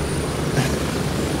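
A helicopter landing in the military shooter game Gray Zone Warfare, a dense continuous rotor and engine roar, loud and close, with no speech over it.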